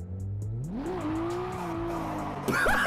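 A car engine in the Assetto Corsa driving game revs up and holds a high note as the driver clutch-kicks into a drift, then tires squeal and screech near the end; no voices.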